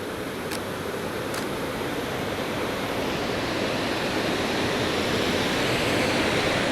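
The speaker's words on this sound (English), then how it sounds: "this is a beautiful waterfall" Steady, broadband roar of Hooker Falls in DuPont State Forest, Blue Ridge Mountains, continuous and fairly loud with no voices, heard from nearby.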